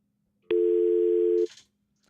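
A telephone sounds its dial tone as it turns on: one steady electronic tone that lasts about a second, then cuts off into quiet.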